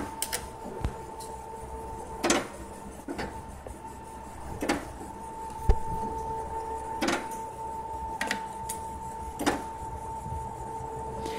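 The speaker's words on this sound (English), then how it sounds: "adjust the distance that the carriage moves in the automatic" A linear stage carriage driven by a Raspberry Pi moves in automatic mode, giving a steady motor hum punctuated by regular sharp clicks and knocks every second or so as it shuttles back and forth.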